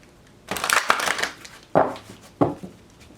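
Tarot cards being shuffled by hand in a few short bursts, a papery rustle followed by two quick riffling snaps, close and clear with no talking.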